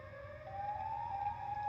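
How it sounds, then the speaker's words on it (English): A lone, eerie siren-like wail, the sound Siren Head makes, holds a steady tone that slowly rises in pitch, droning on without any voices. "the eerie sound that Siren Head makes"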